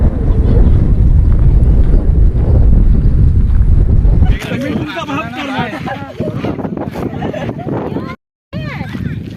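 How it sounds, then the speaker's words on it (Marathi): Strong wind roars and buffets the microphone in a heavy rumble at a large dam, Arjuna Dam near Rajapur, then eases as a person starts talking over the gusts. "वारा पण वेगान सुटलाय"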